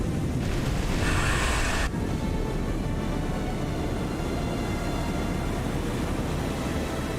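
Heavy naval gunfire from a warship's primary armament in the War On The Sea game, a dense loud boom with bright crackle in the first two seconds, then a sustained low rumble and roar that continues without voices.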